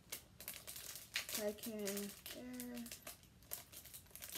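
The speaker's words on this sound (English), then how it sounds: "Let me take the packaging off." Plastic packaging is peeled and crinkled off a Disney pin, a close run of rustles and tearing crackles while a voice speaks briefly.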